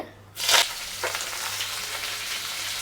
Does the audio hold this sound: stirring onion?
yes